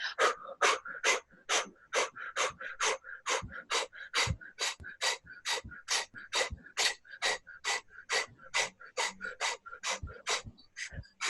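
Steady rhythmic breathing during a relaxation exercise, with about thirty quick, close, even breaths in a row, each one a short airy puff with no talking.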